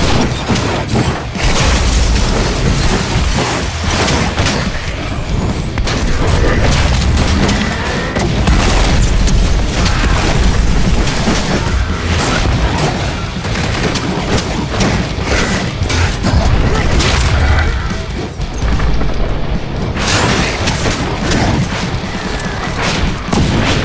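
Grenades go off in Werewolf: The Apocalypse - Earthblood, a steady string of heavy booms and crashing impacts layered with gunfire and clatter, loud and near throughout.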